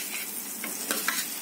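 A spoon gently turns pieces of cut vegetable rawa idli through a sizzling oil tempering in a pan, a steady fry hiss with soft scraping strokes and no voices.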